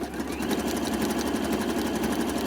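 A sewing machine stitches a reversible swimsuit top with elastic, a fast steady mechanical whirr with rapid regular needle ticks, close and continuous.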